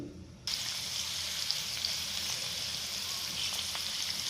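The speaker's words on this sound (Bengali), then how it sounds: "এটাকে গরম তেলে লাল লাল করে ভেজে নেব।" Chopped onion, garlic, coriander leaves and green chillies frying in hot oil for a cabbage bhaji, a steady close hiss and crackle starting abruptly after a brief quiet moment, no voices.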